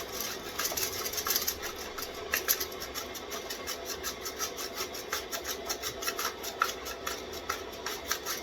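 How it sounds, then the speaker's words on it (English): Something is rubbed against a kitchen grater in a steady, rapid rhythm of rasping strokes, close and moderately loud, with no talk. "I'm going to do this with the grater."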